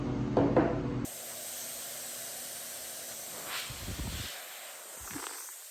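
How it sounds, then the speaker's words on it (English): A brief burst of noise at the start, then a long steady hiss of a spray gun spraying restoration primer onto a dresser, with faint clunks near the end. "I'm going to spot spray those areas where I know I had sanded down to raw MDF"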